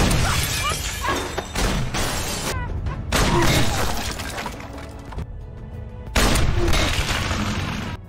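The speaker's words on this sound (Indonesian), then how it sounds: "Tembakan demi tembakan dilancarkan Spicy, mengharuskan keduanya bersembunyi." Bursts of gunfire with crashing, shattering impacts, loud and close, broken by brief quieter gaps.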